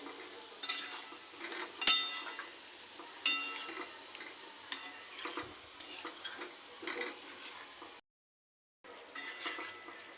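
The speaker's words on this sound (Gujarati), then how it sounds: "હવે આપણે તેમાં બટેટા એડ કરી દઈશું" Potatoes sizzling in a pan of garlic masala while being stirred, with a continuous frying hiss broken by repeated scraping strokes and a couple of sharp utensil knocks, followed by a brief gap of silence.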